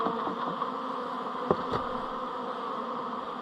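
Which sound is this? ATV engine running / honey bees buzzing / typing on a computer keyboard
honey bees buzzing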